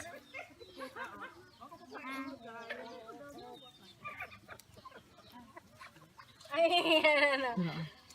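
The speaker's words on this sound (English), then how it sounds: "these are our chicken and duckies. Look at that, how they're enjoying papaya." Backyard chickens and ducks feeding on ripe papaya give soft clucks and murmuring calls close by, growing louder and busier toward the end, with a voice faintly underneath.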